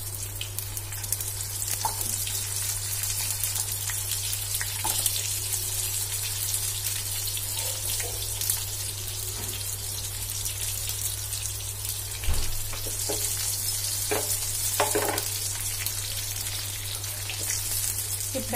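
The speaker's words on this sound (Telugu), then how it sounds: "మునక్కాయ ముక్కలు అయితే ఆయిల్లో మగ్గాలి" Drumstick pieces frying in oil, a soft continuous sizzle with scattered pops and crackles over a steady low electrical hum, no talk.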